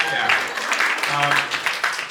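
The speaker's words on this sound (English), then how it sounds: "You can applaud for that." A comedy club audience breaks into a short, full burst of applause, mixed with scattered voices and cheers.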